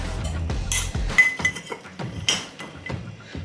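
Tea leaves are spooned into a teapot, giving several light clinks and taps of metal spoon against the pot, close and irregular with no voices.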